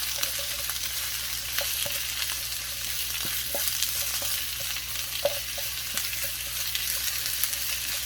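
Onion and squid stir-fry in a small frying pan, a steady close sizzle punctuated by irregular scraping and tapping as the food is tossed and moved about.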